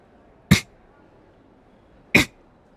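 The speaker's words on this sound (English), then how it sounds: "That's me coughing." Two short, sharp coughs, well spaced in a quiet room, the second about a second and a half after the first.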